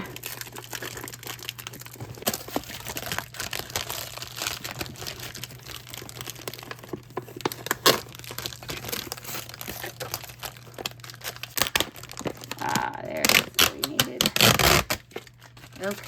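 A plastic bag crinkles and crackles while a heavily taped package of costume jewelry is unpacked, with dense, irregular rustling close up, a burst of tearing and crunching near the end, and occasional faint speech.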